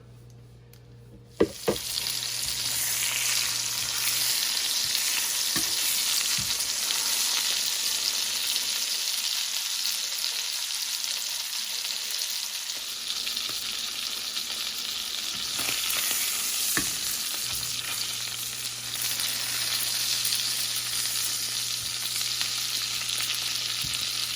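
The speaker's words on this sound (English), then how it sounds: "you got some sizzle going on, and we're gonna cook" Steady, loud sizzling of bacon and chicken frying in hot bacon grease fills the whole stretch, with a few soft clinks and stirring sounds and no voices.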